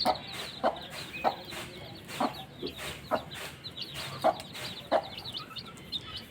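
A free-range village hen with chicks clucks steadily, short sharp clucks at a regular pace, close and clear over a faint background hum.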